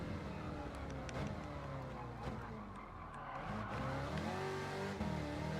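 Car drifting in the Gran Turismo 7 racing game, with engine revving and long wavering tire squeals sliding up and down in pitch, a continuous skidding roar with no pauses.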